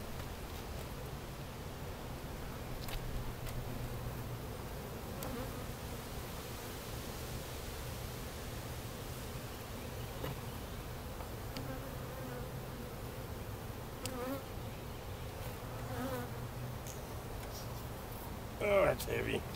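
Honeybees buzz in a steady, dense drone around an open hive during an inspection with brood frames and supers, a continuous hum at even loudness throughout with a brief louder knock near the end.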